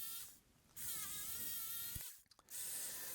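An old jigsaw cutting wood whines loudly in steady bursts, stopping briefly twice before starting up again.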